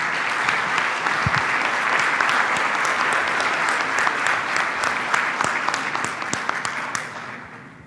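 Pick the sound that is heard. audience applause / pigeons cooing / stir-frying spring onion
audience applause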